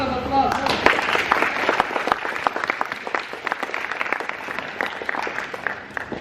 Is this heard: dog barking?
no